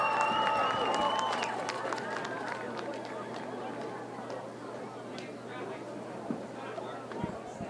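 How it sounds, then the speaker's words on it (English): Football stadium crowd before a play fills the background with a broad murmur and scattered cheers, loudest at first then easing, with a voice speaking over it. "Crowd waiting in anticipation for this play as both teams line up, get it going."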